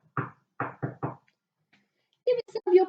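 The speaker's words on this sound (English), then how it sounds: "So they knocked on Mr. Wolf's door." Four knocks on a door, close and distinct in a quick uneven rhythm, followed after a pause by a few spoken words.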